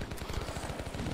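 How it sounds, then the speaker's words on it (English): Rapid, even bursts of nail-gun fire in the video game Nation Red, a dense mechanical rattle of repeated shots that keeps going steadily from start to finish. "Got some nail gun."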